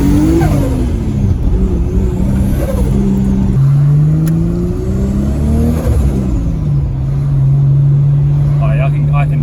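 Nissan Skyline R33 with an RB25 engine revving on a dyno at low boost, loud and close, engine note climbing and falling across several pulls as people talk over it.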